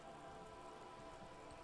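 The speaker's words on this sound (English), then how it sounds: "All around you, rain keeps falling down. On the wooden boards she's standing on, and on the water around you." Rain in the game Disco Elysium falls steadily on wooden boards and open water, a soft, continuous hiss of drops at low volume without pauses.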